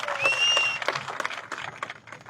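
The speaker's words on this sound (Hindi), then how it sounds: "जोरदार तालियां होनी चाहिए साथियों, जोरदार तालियां होनी चाहिए" A crowd at a protest site breaks into loud, continuous applause, dense clapping carrying steadily from start to finish, with a whistle rising briefly over it early on.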